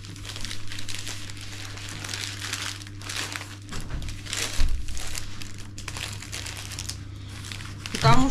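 Paper being wrapped around a heavy New Year flower bouquet full of conifer greenery, with steady close crinkling and crumpling throughout and a louder rustle near the end.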